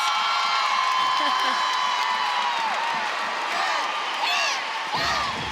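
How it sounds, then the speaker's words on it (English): Crowd at a college gymnastics meet, NC State at Clemson, cheering and whooping after a front layout, front full to front tuck tumbling pass; a dense, loud, sustained roar of voices with shrill shouts rising near the end. "That was 3 skills in a row, and the crowd goes wild."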